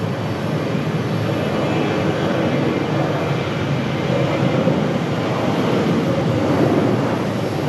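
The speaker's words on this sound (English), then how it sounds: "Where is this Delta A321 headed?" A Delta Airbus A321 airliner at Raleigh-Durham airport gives a steady, broad jet engine roar that holds at an even loudness throughout, with no talking.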